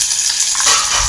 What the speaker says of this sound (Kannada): ಇದನ್ನ ಅಷ್ಟೇ ಚೆನ್ನಾಗಿ ಫ್ರೈ ಮಾಡ್ಕೊಳ್ಳೋಣ.